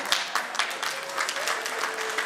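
Brief, lively applause from an audience at an Agile conference talk, a bright crackling spread of many hands clapping at once with no talk over it.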